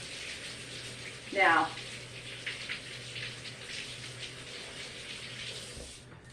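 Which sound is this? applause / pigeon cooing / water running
water running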